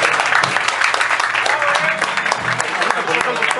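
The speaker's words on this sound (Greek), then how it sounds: "Ένα χειροκρότημα." Audience applause at a live band concert in a venue, dense steady clapping with crowd noise continuing throughout, loud and close.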